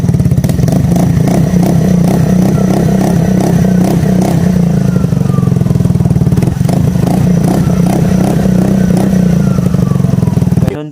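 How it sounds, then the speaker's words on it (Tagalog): A Suzuki Burgman Street 125 scooter fitted with an aftermarket full-system exhaust muffler runs loud and close, a steady throbbing engine note with a rough, rhythmic exhaust burble that holds for the whole stretch before cutting off. "Ganun po ang magiging tunog niya kapag nagkabit kayo ng aftermarket na muffler na to."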